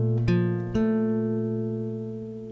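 Dry acoustic guitar strummed twice with reverb and EQ switched off, two sharp chord attacks ringing out and slowly decaying, alone and close.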